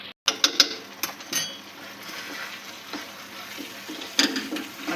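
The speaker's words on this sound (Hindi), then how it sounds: "मैं इसके अंदर ग्रीन कलर डाल रही हूँ इसी पॉइंट पर। फिर इसको हम मिक्स करेंगे।" Spoon stirring green food colouring into Bombay Karachi halwa in a pan, with soft scraping and several sharp clinks and taps against the pan over a quiet background.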